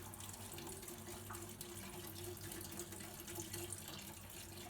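Chicken broth pours steadily into a cooking pot for chicken tortilla soup, a continuous close splashing, gurgling stream with no talking.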